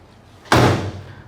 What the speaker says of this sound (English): Door shut real solid. One solid thump, that was it.